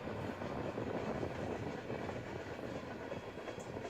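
A BNSF freight train of standard three-bay grain hopper cars rolls past as a steady, faint, continuous rumble with broadband rattling and no voices.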